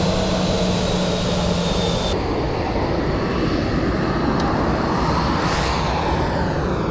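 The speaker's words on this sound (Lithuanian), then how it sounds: "O čia išskrenda Ryanair." A Ryanair airliner taking off from Vilnius airport gives a continuous jet and engine roar, loud and unbroken for the whole stretch, with no voices.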